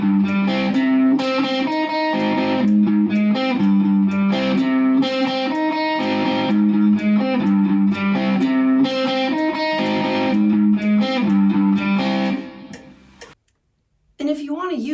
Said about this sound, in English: Practicing with a metronome at 100 beats per minute, it's going to look and sound like this.